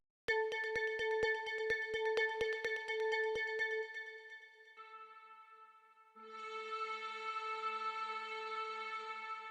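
A synth ambience pad for a progressive house intro made in FL Studio Mobile, opening with a pulsing plucked pattern that fades into sustained shimmering tones, then a fuller swelling pad enters; no voices.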